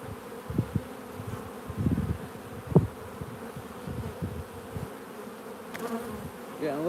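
Honey bees swarm around an open hive during an inspection, their steady buzz dense and close, with individual bees droning past the listener in louder swells.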